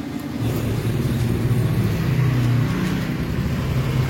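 A Honda Vario 125 scooter engine starts and idles close by with a low, steady rumble throughout, a slight rise in the middle; no voices.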